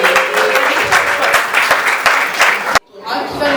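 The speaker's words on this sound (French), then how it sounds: "vous pouvez applaudir encore s'il vous plaît" Loud, dense applause from an indoor audience at a Christian student gathering, steady clapping rolling on for nearly three seconds before cutting off abruptly, followed by quieter room noise.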